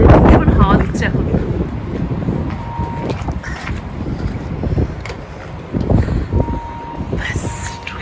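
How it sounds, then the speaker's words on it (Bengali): Strong wind gusting outdoors on a cold, snowy day, buffeting the microphone in loud, uneven rushes, with a voice talking over it. "বাপরে বাইরে ভীষণ হাওয়া দিচ্ছে এখন"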